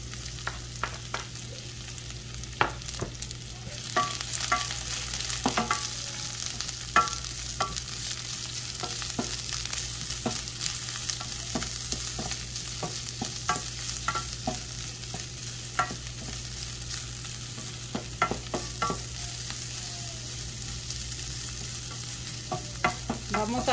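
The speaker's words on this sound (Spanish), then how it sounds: "vamos a freír solamente un poquito, como por un minuto" Garlic and onion frying in olive oil for a nopales stew, a steady close sizzle with occasional stirring scrapes and pops continuing throughout, no talking.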